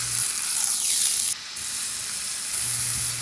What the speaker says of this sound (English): smash that burger